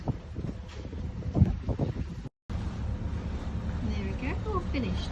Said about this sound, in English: We're still sailing, nearly to Peel Island.